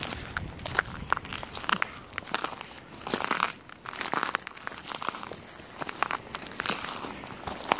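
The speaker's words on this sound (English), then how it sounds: "We walk in, they crinkle." Footsteps crunching across oyster shells on Camber Sands beach in East Sussex, a steady run of crackling, crinkling crunches close up, walking pace over faint background noise.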